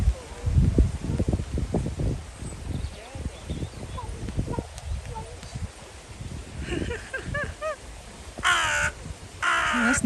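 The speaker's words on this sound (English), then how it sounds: "This bird is making some crazy noises." Crow-like bird calling outdoors at a campsite in Cwm Dare, Wales, giving harsh caws and odd rasping notes, with bursts of rustling and handling noise and people talking nearby.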